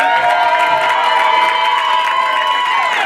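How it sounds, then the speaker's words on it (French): Crowd at a Francophonie festival cheering and shouting for the countries as each is named. The roar is loud and sustained, with high-pitched whoops and children's voices, plus some clapping. "je voudrais qu'on applaudisse la Belgique. Je voudrais qu'on applaudisse le Cameroun, on a le droit de crier aussi quand on est de ce pays."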